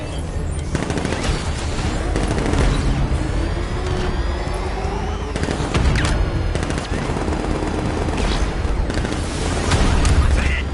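Heavy gunfire and explosions in the Batman: Arkham Knight video game, with rapid machine-gun bursts, booming blasts and continuous loud battle noise across the whole stretch.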